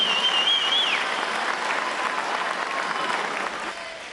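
Applause from a crowd at a public political event in Campeche for President López Obrador, steady dense clapping throughout, with a brief whistle near the start, fading slightly at the end.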